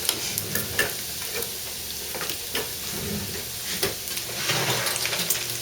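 Potato skins fry in a pan with a continuous crackling sizzle, interrupted by occasional clanks and scrapes as they are checked, close and fairly loud, with no speech.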